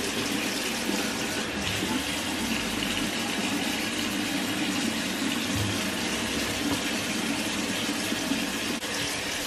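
Water runs steadily from a bathroom tap during a face rinse, a close, continuous splashing hiss that stays even throughout with no voices.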